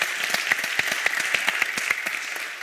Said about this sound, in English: so a big round of applause to you guys.